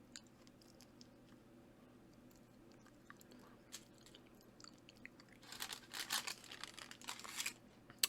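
Someone chews a dehydrated strawberry slice gone rubbery, quiet mouth sounds at first, then a cluster of close, crunchy bites and chewing near the end.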